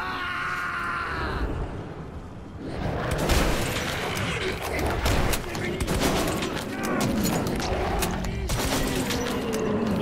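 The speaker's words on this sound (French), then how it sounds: "je tire comme un noob" Rapid bursts of gunfire from a metro-set video game, dense and continuous over about ten seconds, with booms and mechanical clatter mixed in and a voice talking underneath.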